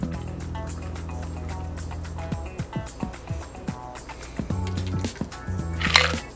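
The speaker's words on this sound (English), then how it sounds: "Pour into the large glass of your choice." A shaken Reese's peanut butter cup cocktail made with cream is poured from an ice-filled shaker tin into a large glass. Liquid splashes and ice clinks and knocks close by, with background music at the start.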